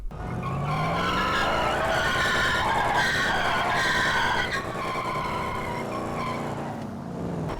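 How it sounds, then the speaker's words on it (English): A long, loud tire screech with wavering pitch, continuous for several seconds over engine noise, close and prominent, from a modded sound in the video game GTA 5. "this mod changes the tire screech sound"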